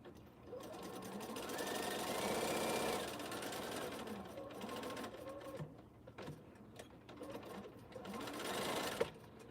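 A sewing machine stitches binding onto a charity quilt in a steady, continuous mechanical whir, pausing briefly near the middle before running again, close and alone.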